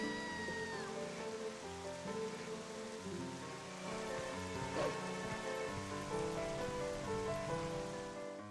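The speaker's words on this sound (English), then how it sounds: "It's raining." Steady rain patters in The Legend of Zelda: Twilight Princess, a continuous hiss of falling drops beneath layered game music and tones, with no voices.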